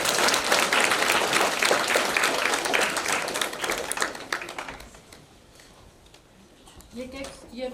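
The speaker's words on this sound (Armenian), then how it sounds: "Եկեք եւս մեկ անգամ երեխաների մի հատ դուռը ծափահարենք" Audience applause for children at a school event at Spitak No. 1 basic school in Armenia: loud, dense clapping fills the first five seconds, then fades to quiet before a voice begins speaking.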